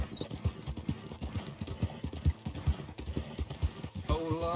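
Thoroughbred horse hooves clip-clop at a steady trotting rhythm in the Red Dead video game, loud and continuous, with a brief whinny near the end and some speech faintly underneath.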